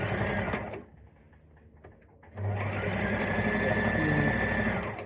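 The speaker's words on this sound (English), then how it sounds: "Sewing." A sewing machine stitches a seam on a maxi skirt, a close rapid mechanical whir that stops briefly for about a second and a half, then resumes steadily and a little louder.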